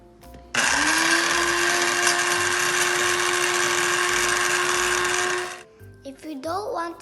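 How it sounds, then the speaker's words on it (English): An electric grinder whirs loudly and steadily for about five seconds as it grinds small red chili, fennel seeds and cinnamon, then winds down into brief speech. "So let's grind."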